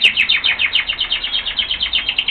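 Birds chirp in a quarantine room for newly arrived birds, giving a fast, regular run of bright, sharp tweets that repeat close by and loud.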